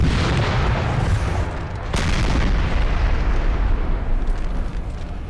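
Artillery fire on a battlefield in Napoleon Total War, a dense, continuous rumble of booms and blasts rolling throughout, with one sharp, loud report near the middle standing out above the barrage.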